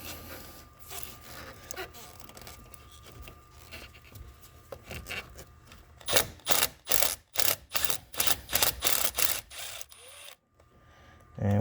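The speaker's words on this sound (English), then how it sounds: "That just sounds like it's spinning," An impact gun spinning a socket on a starter nut of a 2.5L Nissan Altima, giving a rapid series of loud, evenly spaced hammering bursts close by after quieter mechanical fiddling.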